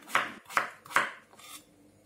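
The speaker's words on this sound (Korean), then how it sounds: "감자 3개를 3cm 길이에 1cm 굵기로 잘라 준비해 줍니다." A knife cuts potatoes into sticks on a board, making three crisp, evenly spaced chops followed by a fainter fourth, close and quiet with no voices.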